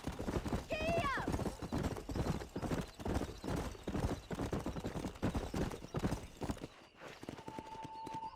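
Horses gallop with steady clip-clop hoofbeats through most of the stretch in Red Dead Redemption, a horse whinnies near the start, and riders call out over the loud, busy hoof rhythm before it drops away to a quiet hum.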